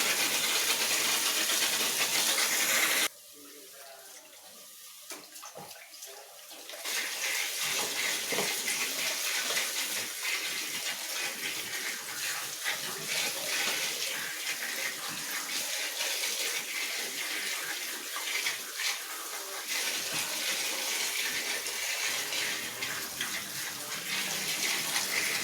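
A tap runs steadily while food is rinsed underneath it, a close, hissing stream of water that stops briefly for a few seconds and then flows on, broken by occasional splashes.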